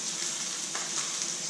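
A steak, to be topped with an Asiago crust, sizzles in a pan over high heat: a steady, close crackling hiss that holds evenly throughout, with a few brief spatters and no voices.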